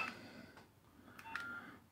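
Keypad tones from a 2003 Nokia 3100 mobile phone: a few short electronic beeps, faint and close, with a quiet pause between them and no talking.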